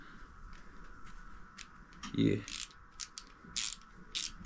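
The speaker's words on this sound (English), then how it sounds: "It's a ratcheting screwdriver." A Wera ratcheting screwdriver clicks in short quiet bursts aboard a sailboat during work on an electric water heater, with faint background noise and some soft speech-like sounds.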